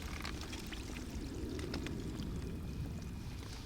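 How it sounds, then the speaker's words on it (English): Spring water bubbling and gushing up out of a sandy streambed, a steady close rushing wash with faint splashy flecks, continuous and with no voices. "there's actually the water bubbling up out of the ground right here."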